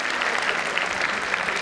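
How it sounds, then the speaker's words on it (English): An audience at a school music event claps continuously, a bright, dense and even wash of applause throughout the brief moment. "Audience, please keep clapping"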